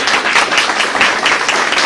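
A crowd at a Massachusetts advocacy meeting on juvenile justice reform claps steadily and loudly, a dense, even wash of applause that fills the whole short stretch with no voice above it.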